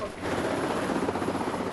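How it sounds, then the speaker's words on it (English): Wessex search and rescue helicopter, a steady loud rotor chop and engine roar, close and continuous through the short stretch. "We have Wessex helicopters."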